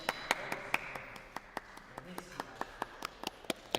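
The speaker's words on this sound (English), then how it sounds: "I can't clap very loud; it'll peak the microphone." Soft, restrained hand clapping at a fencing event in London: a steady run of light, evenly spaced claps, kept quiet, with voices talking underneath.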